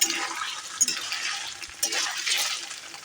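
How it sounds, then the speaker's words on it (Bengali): Paneer pieces fry in a pan until reddish-brown, giving a continuous soft hiss and sizzle with small crackles, fairly quiet and close, with no talking. "পনিরটা এরকম লাল লাল ভাজা হবে একটু।"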